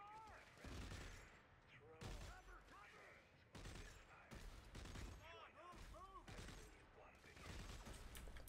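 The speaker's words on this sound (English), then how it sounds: "Three round burst." Bursts of gunfire from the sci-fi shooter Dead Space 3, short rapid volleys repeating through the stretch amid busy game effects, loud and close, while a player talks over them.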